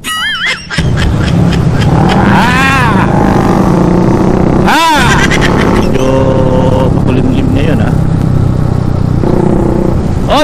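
Several motorcycles ride together on a morning road, with engines rumbling and revving close by. Loud horn-like tones and passing engine sweeps come and go, and a voice talks throughout.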